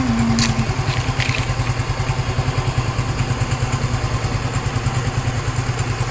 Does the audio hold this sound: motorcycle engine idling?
yes